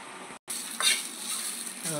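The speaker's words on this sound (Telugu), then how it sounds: "మనం జస్ట్ ఫ్రై చేసుకోవాలి కొద్దిగా" Ground meal maker soya chunks frying lightly in a pan, giving off a steady, close hiss of sizzling oil with a brief cutout and soft stirring underneath.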